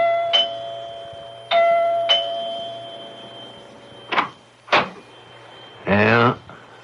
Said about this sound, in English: Dr. Lem Regan rings the doorbell of Clyde Wilkins' house